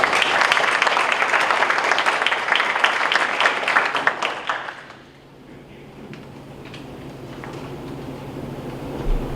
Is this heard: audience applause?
yes